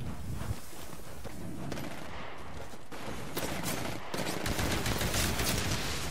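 Dense, rapid gunfire from a close firefight in the Titanfall video game, with sustained bursts and volleys rattling almost without pause and swelling louder toward the end.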